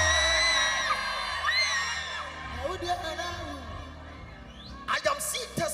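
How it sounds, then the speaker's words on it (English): A church congregation screaming amen loudly, a swelling mass of whoops, yells and cheers from a crowd that rises and falls, with a few sharper shouts near the end. "In the name of Jesus, can you scream the loudest amen here?"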